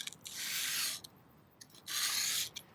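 A wood carving knife blade rubbed along sandpaper to sharpen it: two long, even abrasive strokes, close and fairly soft, separated by a short pause with faint scuffs.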